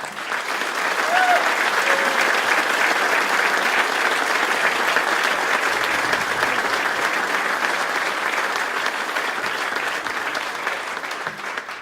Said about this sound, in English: a round of applause for the fine folks at INDOT